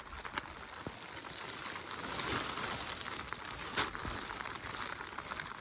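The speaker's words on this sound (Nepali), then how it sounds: "It's raining." Steady rain falling outdoors along a mountain trek trail near Laprak in Gorkha, a dense even hiss of drops with a few sharper nearby splats, continuous and moderately loud, no talking.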